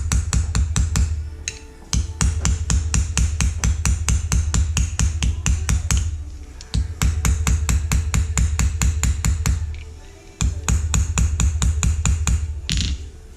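Hammer peening the pins of a knife handle with the flat face, rapid even strikes in long bursts separated by short pauses, loud, close and metallic with no talk.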